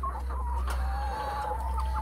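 Several young roosters and hens cluck softly in an enclosure, with steady low murmuring calls and occasional sharper clucks over a constant low hum.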